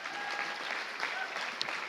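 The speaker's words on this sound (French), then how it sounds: "Applaudissons ceux qui s'impliquent." A church congregation applauds during a New Year service, a steady wash of clapping that sounds somewhat distant and fairly soft.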